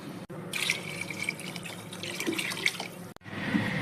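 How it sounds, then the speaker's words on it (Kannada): Water pours steadily from a tap into a cooking pot for bisibele bath, a continuous close splashing stream that breaks off briefly near the end before resuming. "ಆರು ಕಪ್ಪಷ್ಟು ನೀರು ಹಾಕ್ಕೊತಾ ಇದ್ದೇನೆ"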